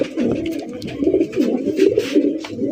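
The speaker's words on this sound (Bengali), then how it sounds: "দেশি বোম্বাই কবুতর" A big local Bombay pigeon, an agitated male, coos loudly and close in a repeated, pulsing series of deep throaty notes, with faint background noise and no talk.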